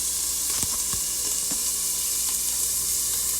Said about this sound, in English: while these are sauteing down